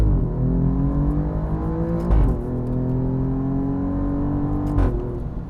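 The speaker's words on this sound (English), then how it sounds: "The stock exhaust sounds louder in this car than it did in my 2018." Stock exhaust of a 2023 Alfa Romeo Giulia QV on country back roads, heard from inside the cabin as a steady droning engine note that climbs gradually, with two short breaks where the pitch drops and rises again.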